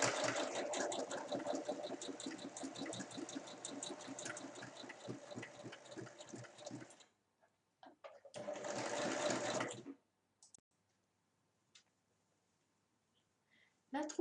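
Sewing machine assembling a makeup pouch, a fast even stitching rattle for about seven seconds, then a second shorter burst after a pause, with quiet handling sounds in between.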